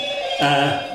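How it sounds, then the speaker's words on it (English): A mobile phone rings out with a bright, steady electronic tone that starts abruptly partway through and holds, loud and close, over a faint background. "excuse my phone"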